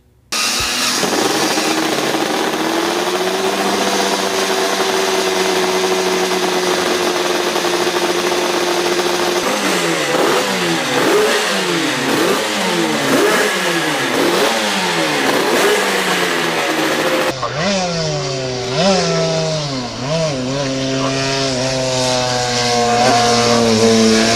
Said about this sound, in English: Suzuki RG500 Gamma.